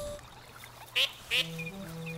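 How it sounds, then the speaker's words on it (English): Ducks in the video game Alba: A Wildlife Adventure quack in two short, bright bursts, close and clear over a quiet ambient game background with no talk. "Aha, it's ducks."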